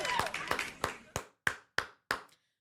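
Hands clap in a quick series of about eight sharp, crisp claps. The first few land under talking, and the last ones ring out alone with short gaps between them.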